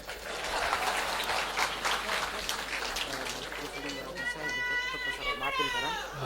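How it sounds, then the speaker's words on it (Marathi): An audience in a hall claps in a dense, irregular patter for a few seconds, with crowd voices and chatter rising over it toward the end. "वाजवा टाळ्या"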